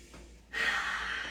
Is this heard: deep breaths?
yes